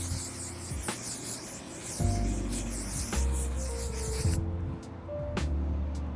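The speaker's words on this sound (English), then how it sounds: "Like I spray like half of this on my face" A face mist spray hisses steadily for several seconds, cutting off abruptly partway through, with some soft rubbing and handling noises around it.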